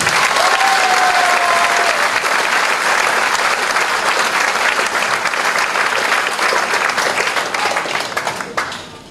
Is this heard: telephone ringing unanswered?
no